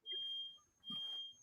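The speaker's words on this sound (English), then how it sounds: "is this beeping in my space or yours?" Electronic beeping sounds in two bursts of a steady high-pitched tone, separated by a short gap, with faint background noise and no talking.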